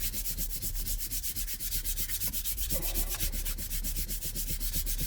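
Hand sanding a BMW leather steering wheel with 500 grit sandpaper, with rapid rhythmic back-and-forth rasping strokes, close and loud throughout.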